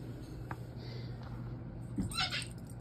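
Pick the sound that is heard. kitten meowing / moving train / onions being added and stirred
kitten meowing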